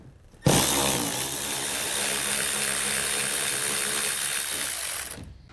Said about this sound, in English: This will be an 8mm socket to get these removed.